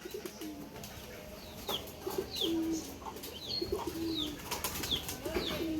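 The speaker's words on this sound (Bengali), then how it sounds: "কত কবুতর দেখছো?" Pigeons cooing at a village house, soft low coos repeating in a loose rhythm with a few faint chirps and wing flaps nearby.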